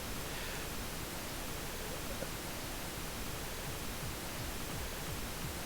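Steady, loud pink noise fills the mix, with a kick drum buried faintly beneath it as soft, barely noticeable low thumps.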